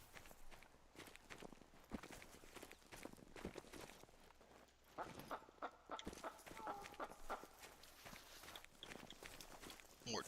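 Turkeys in the hunting game theHunter: Call of the Wild give soft, repeated clucks in the middle distance, over a steady crunch of footsteps on forest ground.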